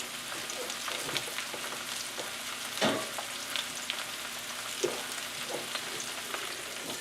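Mushrooms and chicken with garlic cook in a covered pan, giving a steady, close sizzle with scattered pops and crackles and a few louder bursts, no voices.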